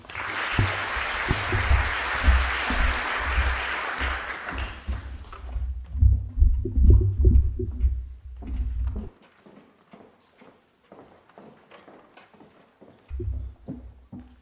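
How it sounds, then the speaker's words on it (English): Audience applause for award winners at a Duke of Edinburgh Award ceremony, a dense roomful of clapping that fades after about five seconds into scattered thuds and footsteps. "I think we'll give them another round of applause."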